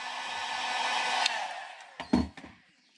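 Heat gun blowing a steady airy whoosh while heat-setting paint on a copper shad crankbait lure, running continuously for over a second before switching off, followed by a few close handling knocks.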